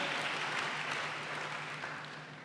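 A congregation at a church service applauds steadily, a dense wash of many hands clapping at moderate volume throughout with no voices standing out.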